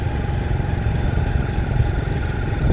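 A motorcycle rolls slowly over a narrow bridge above a river, its engine a steady low rumble with a dull thrumming under constant wind buffeting, close and fairly loud throughout.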